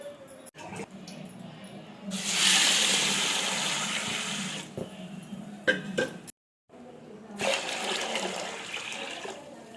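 Water pours into a bowl to soak sago pearls for sago papads, in two rushing spells separated by a short pause with light clatter of vessels.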